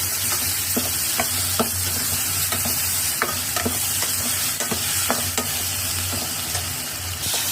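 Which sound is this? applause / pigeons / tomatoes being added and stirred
tomatoes being added and stirred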